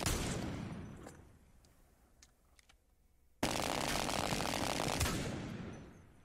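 Gunfire from the video game Apex Legends comes in two dense bursts of rapid shots, separated by a quieter stretch with a few isolated cracks.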